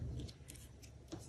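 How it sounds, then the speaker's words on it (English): Scissors snipping through a sheet of scrapbook paper to cut it in half, a few quick close blade closes with light rustling of the paper, no talking. "I'm just going to use scissors because it doesn't need to be precise for what I'm doing"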